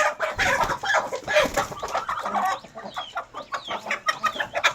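Several hens over 2.5 kg cluck and chatter close by in irregular bursts, a busy farmyard flock with no talking.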